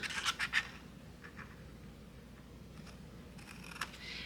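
Washi tape being pulled and pressed over the edges of a paper journal page, with a few sharp crackly tearing and rubbing bursts at the start and again near the end, close up and otherwise quiet.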